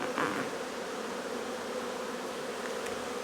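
Honeybees buzz around a hive during a nucleus transfer into a hive body, making a dense, steady droning hum that is close and continuous, with no talk.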